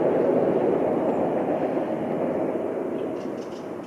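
A train rumbles past near a river, a broad steady roar that slowly fades over a few seconds, heard from outdoors with no talk.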